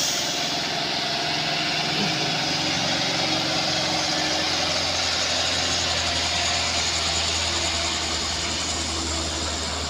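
A heavy truck engine labours up the steep Kedabuhan incline: a loud, steady, close roar with a deep rumble that holds unbroken throughout, with no talk over it.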